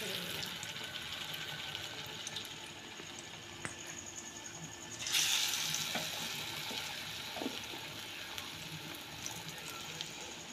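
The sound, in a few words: bread pakora in gram flour batter frying in hot oil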